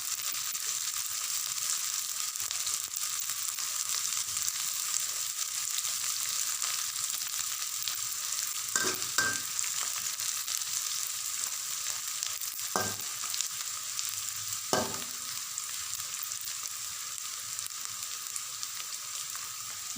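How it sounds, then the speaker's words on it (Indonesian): Garlic sizzles steadily in a hot pan as a cook stirs it for a simple capcay vegetable dish, with a few sharp scrapes and clanks of the utensil against the pan over the constant frying hiss. "Masukkan bawang putih, diaduk-aduk."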